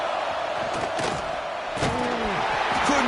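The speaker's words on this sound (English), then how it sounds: "this crowd is fired up. Listen to this noise here" A football stadium crowd roars loudly and continuously, with cheering and shouts swelling throughout, and a commentator's voice is heard over the din.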